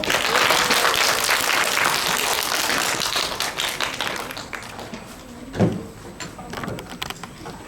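An audience at a school exhibition event claps loudly at first, then the applause thins out and fades into a few scattered claps and small room noises.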